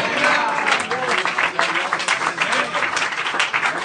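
Clapping from a church congregation during a pastor's teaching at a youth camp, lively and uneven, mixed with voices and cheering from the crowd throughout.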